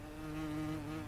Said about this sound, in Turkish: O ses arı sesi mi ya?